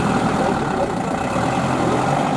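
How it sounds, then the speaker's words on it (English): A Porsche diesel tractor's engine runs steadily at a classic car show in Schömberg, a loud, even rumble that holds constant throughout with no clear voices on top. "Seeming like it's Porsche tractor. Yeah, Porsche diesel."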